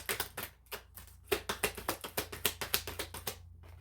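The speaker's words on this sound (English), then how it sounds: "Even the cards are going weird as I'm shuffling them." Tarot cards shuffled by hand in a rapid run of crisp, papery taps and riffles, about a dozen close, sharp strikes with brief pauses, no voices over them.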